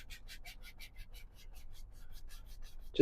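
Loaded paintbrush scrubs over canvas in a pond sunset painting, a quick run of soft rhythmic rubbing strokes, close and quiet, ending in a brief louder knock.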